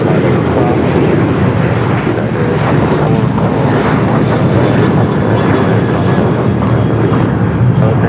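A Korean Air Cargo Boeing 777 freighter taxis along a taxiway at Los Angeles airport toward the runway, producing a loud, close, continuous engine rumble and roar that stays steady throughout.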